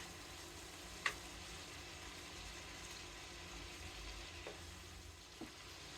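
Garlic sauce and tofu fry in a pan with a faint, steady sizzle, marked by a single sharp utensil clink early on and a couple of softer taps.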